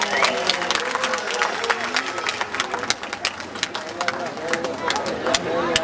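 Applause from an audience at a 2006 tiger show by a pool, dense clapping that stays steady and fairly loud throughout, with voices mixed in.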